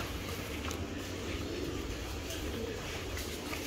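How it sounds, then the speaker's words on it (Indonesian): Pigeons coo softly and repeatedly under a constant wash of background hiss, with no voices nearby. "Burungnya liar banget ya."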